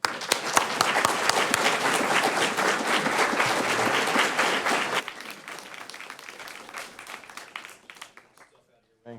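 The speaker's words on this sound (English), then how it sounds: "Please give a round of applause to Dr. Glenn Sunshine" Loud applause from a church audience greets a speaker being introduced, dense clapping for about five seconds before thinning out and fading to quiet.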